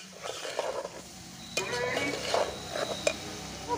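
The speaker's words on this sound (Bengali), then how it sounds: "খুব ভালো করে নেড়ে কষে নিতে হবে অল্প সময়।" Lentils stirred and fried in a pan for Bengali khichdi, a spoon scraping and clinking against the pan under a soft sizzle, close up, with a voice speaking intermittently.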